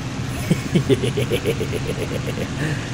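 Spitfire engine in the IL-2 Cliffs of Dover flight game running unevenly, a steady mid-pitched drone broken by a short run of irregular coughing pulses early on before settling back to a rough idle.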